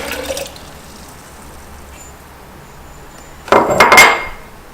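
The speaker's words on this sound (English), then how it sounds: "we're going to pour that water into our measuring" Water poured into a measuring jar during candle making, a short splashy burst of pouring near the end after a quiet stretch.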